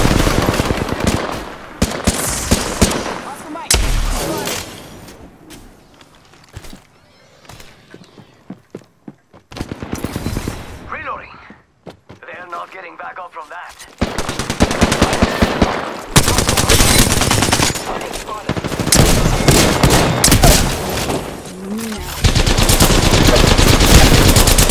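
Automatic gunfire from an Apex Legends firefight crackles in loud, dense bursts, fading into a quieter lull midway before heavy, sustained shooting returns and dominates the final stretch.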